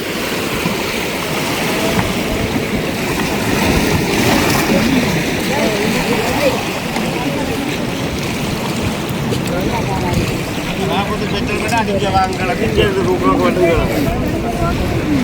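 Three or four Sri Lankan navy boats running continuously on the water, a sustained engine drone with wind buffeting the microphone and waves, and faint voices in the background.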